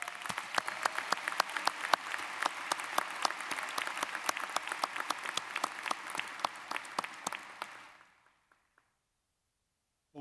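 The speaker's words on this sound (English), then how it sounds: "Please let's give him another round of applause" Graduation audience at a university commencement ceremony breaks into a long burst of dense applause, many hands clapping steadily for about eight seconds before it fades out and stops, leaving near silence.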